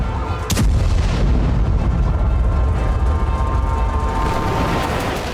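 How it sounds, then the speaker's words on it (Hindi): Air strike explosions hit Hezbollah targets in daylight: a sharp blast near the start gives way to a loud, continuous deep rumble and roar that holds steady throughout, with no voices. "दिन के उजाले में ही एयर स्ट्राइक की गई। जहां जहां हमले हुए वहां तेज धमाके के बाद काले"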